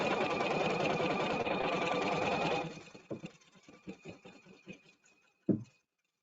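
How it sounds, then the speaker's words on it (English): An embroidery machine runs steady and loud for a few seconds, then drops to a sparse, uneven run of short tapping stitches as it goes back over the same spots to lock the thread, ending with one sharp clack. "you can see that it's going over the stitches again and again to lock them together"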